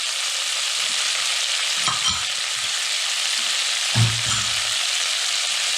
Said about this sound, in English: Now we're just going to sweat this just for a few minutes